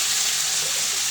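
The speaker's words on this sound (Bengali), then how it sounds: "এখন জল দিয়ে দিই" Water pours into a pan of sautéed potatoes, making a continuous loud, close rushing splash that lasts throughout, with no speech.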